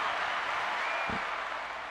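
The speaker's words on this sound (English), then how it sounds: "I would like to give her another applause on that" Audience applause, a steady wash of clapping held at an even level for two seconds with a single low thump partway through.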